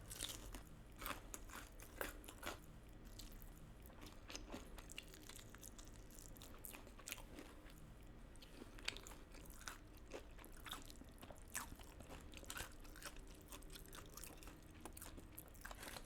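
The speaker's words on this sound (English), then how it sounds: "here I am eating some more nuclear fire noodles" Spicy nuclear fire noodles, kimchi-wrapped and eaten alongside fried chicken, are chewed up close with steady wet crunches and bites repeating throughout, fairly quiet, with no talking.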